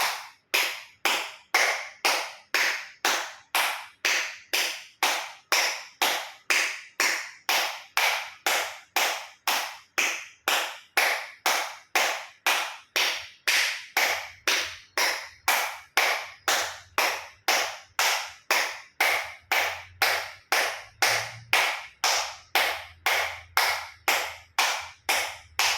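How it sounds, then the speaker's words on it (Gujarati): Acupressure clapping with all five fingers of both hands meeting, done as a loud, steady series of about fifty claps at an even brisk rhythm, close and sharp, with faint low hum underneath in the later part. "એક્યુપ્રેશર તાળી પૂરેપૂરા પંચાંગળીઓ બધું ટચ થાય એ રીતે 50 વખત જોર જોરથી તાળી"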